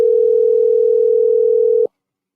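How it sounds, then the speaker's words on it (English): A telephone dial tone holds as one steady, loud, unbroken pitch for almost two seconds, then cuts off abruptly into silence. "See if we can get Balakar on the phone."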